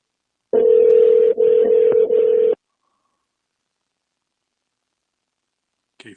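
A steady electronic telephone tone sounds for about two seconds, broken by two brief gaps, then silence with a faint click at the end.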